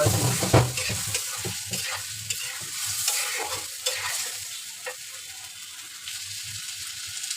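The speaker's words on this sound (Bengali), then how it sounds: "শশাগুলো এখন একটু কষায় নেব" Cucumbers with spices sizzle in a pan for a Bengali tengra fish curry, with steady frying hiss and repeated scraping strokes of a spatula stirring close by.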